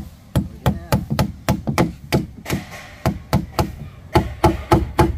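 Steady hammer blows strike wood, roughly two sharp knocks per second with brief pauses, loud and close.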